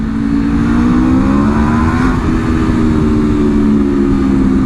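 A 2026 Aprilia RSV4 motorcycle with a replaced engine and stock exhaust valve idles loud and steady up close, a low droning engine tone holding throughout with a slight rise in the middle.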